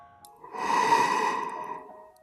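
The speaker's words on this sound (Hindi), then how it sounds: "उस खांसी के बाद दरवाजे के ठीक दूसरी तरफ से किसी के गहरी सांस लेने की आवाज आने लगी" One deep, slow breath sounds from behind a wooden door, close and hollow, rising to a peak and then easing off into quiet.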